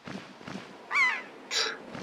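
A seagull in The Legend of Zelda: The Wind Waker HD gives two loud, close, squawking cries with a brief gap between them, over soft rhythmic background game sounds.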